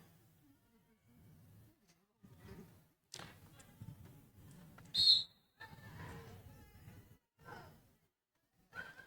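A referee's whistle gives one short, sharp blast during a French national championship roller derby bout, standing out between scattered bursts of crowd and rink noise.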